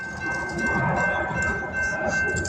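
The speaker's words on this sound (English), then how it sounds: "And we're going to have another train, too." A train passes nearby, a continuous rumbling roar with rattling wagons and a steady high whine over it, loud and sustained through the whole stretch.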